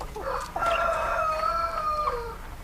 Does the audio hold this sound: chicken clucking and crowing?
yes